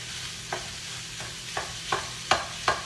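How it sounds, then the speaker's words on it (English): Ground meat sautés in a pan while a wooden utensil breaks it up, a soft steady sizzle with about six distinct scraping strokes at irregular intervals. "break up the ground meat. And we're gonna saute it until there's no more pink"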